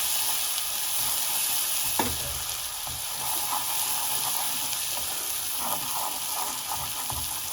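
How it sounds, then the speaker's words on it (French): Cold butter sizzles steadily as it is stirred into hot caramel for chocolate, caramel and pistachio tartlets, giving a loud, continuous frying hiss close up with faint spoon scrapes and bubbling. "L'ajout de beurre froid permet de stopper la cuisson du caramel."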